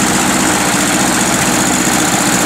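A small engine idles steadily and close by, a continuous low rumble with a buzzing mechanical hum and no other sounds.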